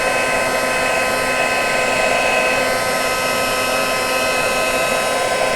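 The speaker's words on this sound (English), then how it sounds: "I hold the heat tool behind what I'm embossing so that it is heating it from behind" A heat embossing tool blows hot air in a continuous, loud, steady whoosh held close, with no talking over it.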